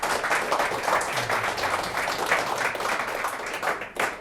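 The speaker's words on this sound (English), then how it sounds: "give Kim a warm applause" Applause from a podcast audience for guest Kim de Vos, a steady wash of clapping that carries on for about four seconds, with a faint voice surfacing near the end.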